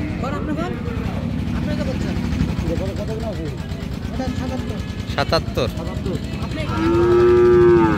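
Cattle at the Raniganj livestock market low amid the steady hubbub of a crowded trading ground, with a loud close moo rising near the end over people talking.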